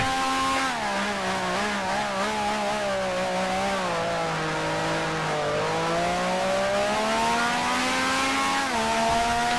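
A 1965 racing car engine in the Grand Prix Legends sim screams loudly and steadily through the lap, its pitch sliding down on lifts and braking and climbing back as it accelerates, with no talking.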